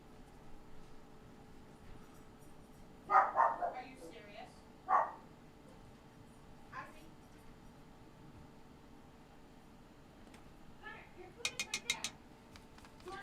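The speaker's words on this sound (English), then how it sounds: "it's feeding time upstairs for the pups, so they're throwing a fit" Puppies barking and yipping upstairs at feeding time, muffled and distant, in a few short bursts over a faint background hiss.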